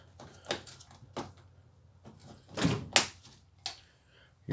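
A bathroom door latch in a 2020 Sunset Trail 253RB travel trailer is worked by hand, giving a few sharp clicks and thunks spaced over several seconds, close by in a quiet room.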